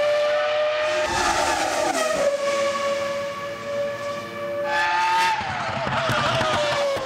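Formula 1 car during a test session on a race track, its high-revving engine whining loudly with pitch rising and falling as it passes and shifts gears, fading mid-clip before another loud surge.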